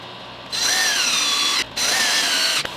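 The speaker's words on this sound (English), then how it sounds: "Then drive my screws." A power drill drives screws into wooden skirt boards for a dog perch, two loud, close, sustained whirring runs with a brief pause between them, ending in a sharp click.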